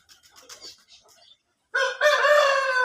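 An Aseel long-tail rooster crows loudly and close by, one sustained harmonic call after a few soft clucks and rustles at the start.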